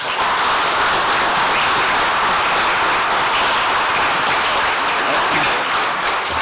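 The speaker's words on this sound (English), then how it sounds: "Why don't you join me and give me a round of applause for our panelists?" A large audience gives sustained applause for a panel of speakers, a dense, steady wash of many hands clapping at once, loud and continuous throughout without voices on top.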